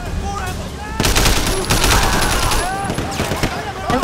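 Rapid bursts of gunfire from Sleeping Dogs, a dense volley that breaks out after a quiet opening second and keeps up with uneven clusters of shots through the rest, loud and close.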